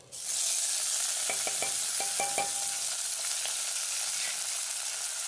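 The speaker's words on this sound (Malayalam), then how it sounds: "നല്ലോണം ഇഞ്ചി വെളുത്തുള്ളി പച്ചമുളക് വാട്ടുമ്പോൾ തന്നെ പ്രത്യേക മണം കേട്ടോ" Ginger, garlic and green chili sizzle steadily in sesame oil in a pan for a mackerel curry, a continuous bright frying hiss with a few light clinks of a utensil against the pan, no talking.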